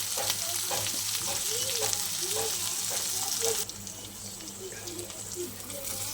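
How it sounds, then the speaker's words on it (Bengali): Eggplant slices with green chillies, salt and turmeric fry in hot oil in a pan. A steady, loud close sizzle dips slightly partway through and runs on, with faint voices in the background. "দেখো বন্ধুরা আমার বেগুন ভাজা প্রায় হয়ে এসছে"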